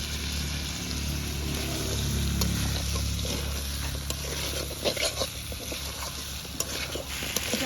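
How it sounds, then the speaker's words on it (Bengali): Prawns and boiled jackfruit seeds sauté and sizzle in hot oil in a pan while being stirred for a Bengali prawn kalia, a steady close frying hiss with scraping stirs and no talking. "রাখা চিংড়ি আর সেদ্ধ করে রাখা কাঁঠালে আটি দিয়ে আর একটু কষে নেব"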